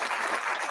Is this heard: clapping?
yes